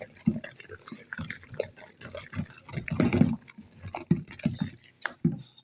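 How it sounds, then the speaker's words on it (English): A liquid hand wash mixture is stirred by hand in a container, making soft irregular sloshing and swirling splashes with quiet gaps between strokes, close and fairly faint. "Stir until it's properly mixed."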